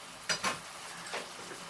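A spoon stirring chana matar curry in a pan, two quick scraping strokes near the start and a softer one later, over a faint steady sizzle.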